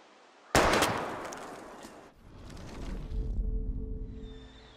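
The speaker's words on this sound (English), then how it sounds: "We're gonna shoot all these bottles without wasting a single bullet." Gunfire in the Life Is Strange video game as bottles are shot at a junkyard: one loud close shot bursts out and rings with a long decaying tail, followed by lower rumbling game ambience.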